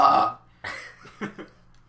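Someone close by lets out one loud burp followed by two shorter burps in a quiet basement room.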